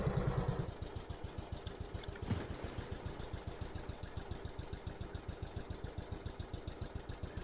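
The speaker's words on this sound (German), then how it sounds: "Aber das Motorgeräusch ist gut." A heavy tank engine in World of Tanks chugs at a steady, rhythmic idle, each low thump evenly spaced, with a brief clank partway through.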